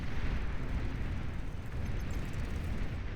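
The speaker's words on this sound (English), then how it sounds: "rocket spiders firing away here" Rocket spider units in the real-time strategy game Beyond All Reason fire missiles, producing a continuous roar of overlapping blasts and booms, dense and loud throughout with no pauses.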